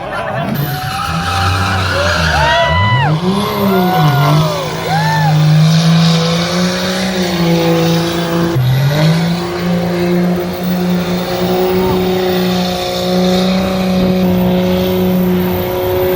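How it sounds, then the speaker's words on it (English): A car doing donuts at a burnout contest, with long wavering tire squeal and a steady revving engine sustained close and loud, dipping briefly midway before continuing. "everybody was doing insane donuts for like 20 minutes straight, blowing up engines, twisting drive shafts,"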